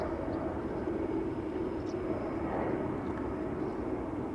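A KLM Boeing 737-800 jet takes off from Schiphol's Polderbaan runway, a steady distant roar of engines rumbling evenly throughout without speech.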